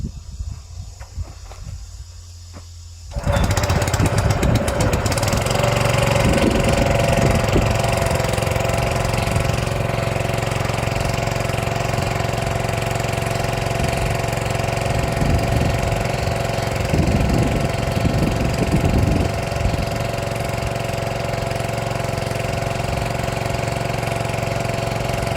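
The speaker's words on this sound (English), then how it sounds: "Start the generator." Generator engine starting up after a quiet moment, then running steadily and loudly close by with a constant droning hum and slight knocking texture, no talk over it.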